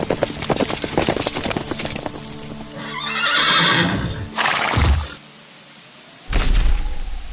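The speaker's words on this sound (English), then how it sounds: "he finally heard the carriage approach." A horse-drawn carriage approaching as a sound effect, with rapid hoof clip-clops, a horse whinnying loudly, then heavy thuds and more hoofbeats, all close and loud.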